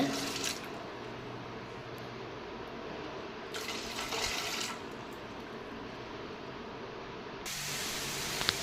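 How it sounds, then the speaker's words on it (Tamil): Water is poured into a cooking pot of lentils and garlic in short splashing bursts, three distinct spurts over a faint steady background, close and moderately loud. "தேவையான அளவு தண்ணி ஊற்றிக்கோங்க"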